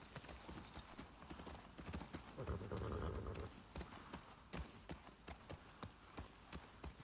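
Horse hooves clip-clop in a steady walking rhythm in the video game The Last of Us Part II, close and clear, with a brief low rumble partway through and no voices.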